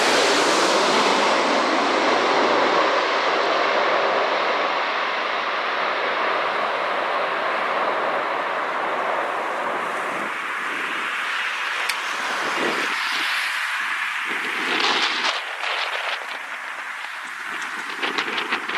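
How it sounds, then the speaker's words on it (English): Boeing 747 landing hard in Amsterdam: a loud, sustained roar of jet engines and rushing air holds steady, then thins into rumbling and a few sharp knocks toward the end. "This Boeing 747 landed very hard in Amsterdam."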